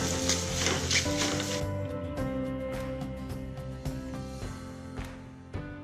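A potato filling with boiled egg sautés in a pan, giving a soft sizzle with scraping stirs and a few spatula taps over a steady background hum.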